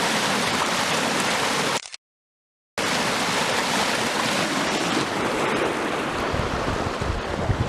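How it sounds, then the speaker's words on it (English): Water rushes loudly and steadily through stream rapids in a canyon, with a broad, continuous roar interrupted briefly by a short gap. "Some rapids."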